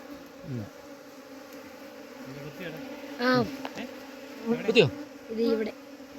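Honeybees being gathered from the ground into a hive, their buzzing swelling and dipping in several close, overlapping surges, with individual bees whining past amid a low steady hum.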